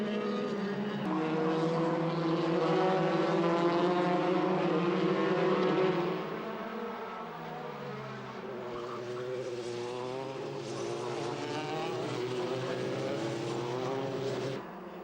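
Several Formula 3 race car engines scream and rise in pitch together as they pull away at a race start, the harmonic whine climbing and then settling into a sustained roar.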